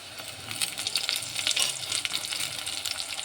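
Curry leaves hit hot oil in a pan for a masala chana dal curry and crackle in a busy, close sizzle with rapid spitting pops throughout.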